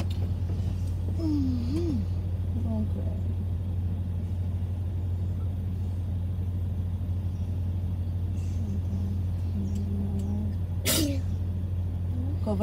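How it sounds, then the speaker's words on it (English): A single sharp sneeze bursts out near the end inside a car on a road in Manchester, Jamaica. A steady low engine and road rumble runs throughout, with a few soft vocal sounds earlier. "Keep your sneeze to yourself."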